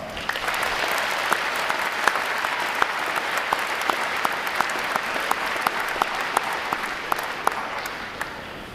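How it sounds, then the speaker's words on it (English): A large crowd applauds recruit division commanders and staff at a Navy recruit training graduation at Great Lakes, a sustained, even roar of clapping in a big hall with sharp individual claps popping through. "Let's give the Recruit Division Commanders and staff a round of applause"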